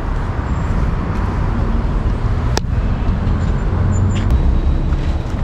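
Congested street traffic in Almaty, stalled after tram trouble, forms a constant dense roar of idling cars and buses nearby, with a sharp brief click and faint distant squeals over it.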